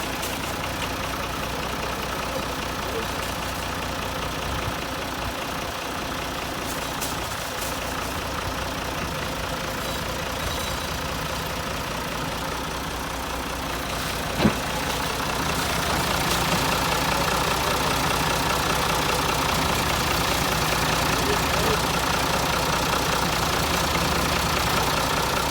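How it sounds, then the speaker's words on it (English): A bulldozer engine starts and settles into a steady, rough diesel idle, with one brief knock partway through and the rumble growing slightly louder afterward; nobody speaks. "put him on my dozer with me. Of course, we didn't drive it, but we started up."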